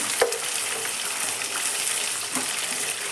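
Curry leaves fry in hot oil on a gas stove, a steady close sizzle and crackle with faint stirring, with no voices.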